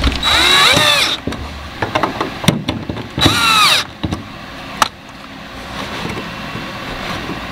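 Power tool driving in the fuel pump bolts on a 2014 Kia Forte, two close, loud whirring bursts of about a second each separated by clanks and handling noise, then quieter rustling.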